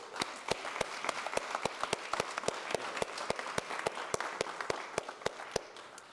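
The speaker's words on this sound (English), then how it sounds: "Let's give them all a big round of applause." Faint, evenly spaced claps sound at a Chamber of Commerce installation ceremony honoring the new board of directors, a sharp rhythmic beat standing out over thin, distant applause from the room.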